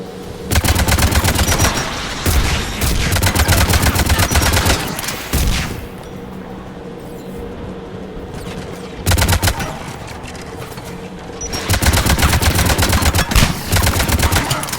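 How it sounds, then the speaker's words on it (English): Anti-aircraft guns firing in Mass Effect 3: loud, rapid bursts of automatic cannon fire in long sustained volleys, broken by a few seconds of quieter ambient rumble before the barrage resumes. "AA guns ahead of us."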